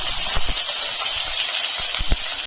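Chopped onion hits about a spoonful of hot white oil in a pan and sizzles with a steady, loud, even hiss. A few soft knocks sound underneath it.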